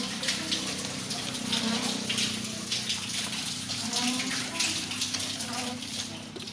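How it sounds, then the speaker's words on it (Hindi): Water rushes up from an old village well at Nizam Pura, Pattoki, in a continuous splashing gush, with voices faintly mixed in. "थले जमीन से पानी आ रहा।"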